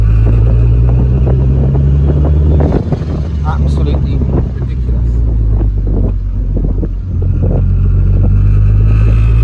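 A turbocharged VR6 engine swapped into an MR2 Roadster pulls hard in gear with a loud, steady, deep drone. Wind buffeting and close talking run over it throughout.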